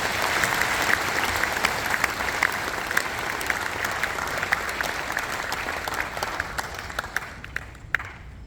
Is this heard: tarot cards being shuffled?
no